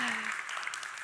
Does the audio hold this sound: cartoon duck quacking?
no